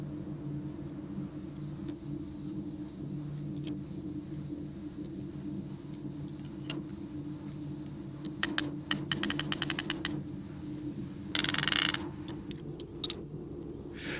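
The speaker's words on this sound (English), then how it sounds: "attach the ratchet system and tension the braid" A ratchet clicks in a quick run of sharp ticks as electric horse fence braid is tensioned outdoors, followed by a brief louder burst and a few scattered clicks over a low steady background hum.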